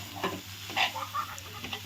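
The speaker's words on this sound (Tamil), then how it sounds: "இதையும் நம்ம நல்லா வதக்கி விட்டுக்கலாம் எண்ணெயிலே." Coriander leaves sautéing in hot oil in a pan for tomato chutney, with soft sizzling and a few stirring scrapes, close and fairly quiet with no talk.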